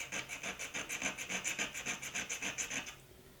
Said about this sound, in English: I'm going to file it a little bit because it just releases easier